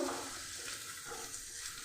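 Carrots frying in ghee in a kadai give a steady, close hiss and sizzle with faint stirring, continuous and without talk.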